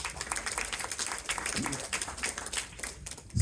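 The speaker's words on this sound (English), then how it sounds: "So just give yourselves a big round of applause" Conference audience at a UK hypnosis convention presentation clapping together, a continuous mid-distance patter of many hands across the whole stretch, fairly soft.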